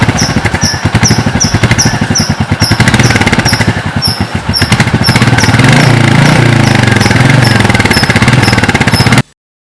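A Royal Enfield Meteor 350 motorcycle thumps along with a rapid, steady single-cylinder beat, loud and close, with a repeating high chime over the engine until it cuts off abruptly.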